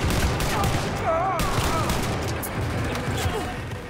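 Shotgun blasts in the first-person shooter Wolfenstein: Youngblood, a dense burst of overlapping gunfire and booming impacts amid game action noise, with a voice speaking over it.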